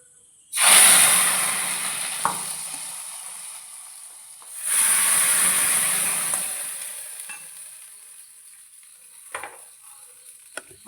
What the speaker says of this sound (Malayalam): കടുക് വറുത്തിട്ടത് ഇട്ടേക്കെ